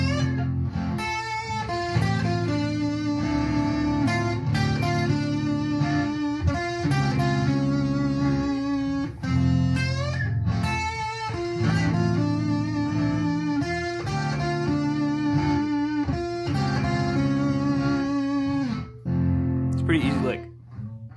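Electric guitar plays the intro lick of a song with chordal accompaniment, a steady, close, sustained melodic line with effects running continuously for about twenty seconds before trailing off.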